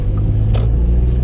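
A 2012 Volkswagen Up small hatchback drives and makes a left turn, a steady low road rumble and engine drone heard from inside the car, with a brief brighter swell midway.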